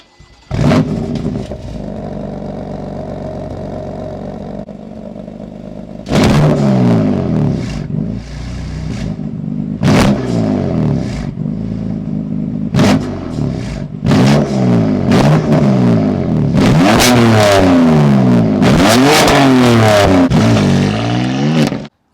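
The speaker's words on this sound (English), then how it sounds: "And that is the sound of the exhaust" A BMW M4 Competition's exhaust revs loudly in repeated throttle blips, with a deep burbling idle between bursts and sharp crackles as the engine climbs and drops.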